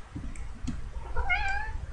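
Two short cat meows from a kitty in the Technic Pack Minecraft modpack, the second a longer rising-falling cry, heard clearly over a low ambient rumble with no talking.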